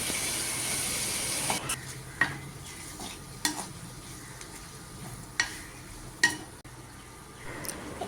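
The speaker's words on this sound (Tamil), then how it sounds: "எல்லாம் போட்டு கம்ப்ளீட்டாக மிக்ஸ் பண்ணி வதக்கலாம்" Chopped tomatoes and masala being sautéed in a pan for fish vada curry, a soft steady sizzle broken by several sharp clanks of a spoon stirring against the pan.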